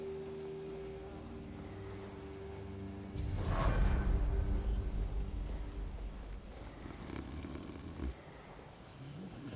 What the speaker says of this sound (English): Are you snoring?